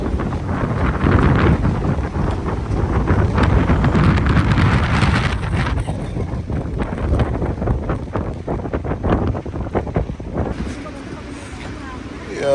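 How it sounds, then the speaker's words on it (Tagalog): Strong wind gusts buffet the microphone at a pine-tree campsite in Malico, San Nicolas, Pangasinan, a loud, steady rushing roar that eases near the end, with a voice speaking over it. "Grabe, lakas ng hangin."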